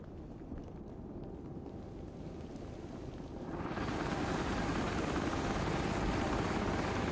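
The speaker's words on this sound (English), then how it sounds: "Is that a helicopter?" Helicopter in the video game Contagion: a steady low rotor rumble that swells at the midpoint into a louder, broadband roar as the aircraft draws nearer, heard alone without talk.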